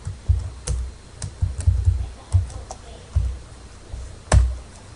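Close, loud keystrokes on a computer keyboard while entering data into a spreadsheet, scattered taps and short clusters of clicks with small pauses between them.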